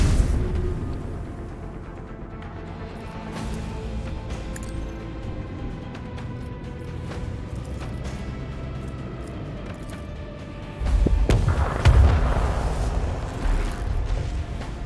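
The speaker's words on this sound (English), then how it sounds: "Lance batteries, volley." Lance batteries firing a volley aboard a starship in the Warhammer 40k: Rogue Trader video game, a low rumbling background that swells into a heavy, booming burst near the end, with no talk over it.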